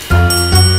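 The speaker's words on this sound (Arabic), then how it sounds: "الجرس." A quiz game bell rings twice in quick succession, loud and close, each strike a bright metallic chime with a lingering ring.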